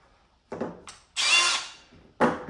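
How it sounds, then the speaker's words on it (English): A power drill fitted with a 1/4 inch bit bores into a Jeep's stubby steel bumper in three short bursts: a brief whir, a longer high grinding run, then a final start. It is loud and close, with no talk. "What you want to do is use a 1/4 inch bit."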